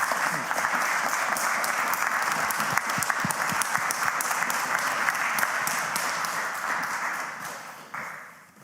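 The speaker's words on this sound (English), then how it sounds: "Could we please have a very warm round of applause for His Excellency Husam Zomlot." A large audience at a lecture at Cambridge bursts into dense, sustained applause, loud and steady before it thins and fades out at the end.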